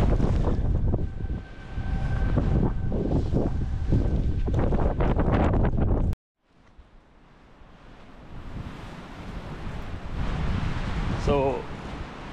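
Strong wind in Iceland buffets the microphone with loud, rumbling gusts, drops out briefly, then builds again; a voice is heard amid the roar.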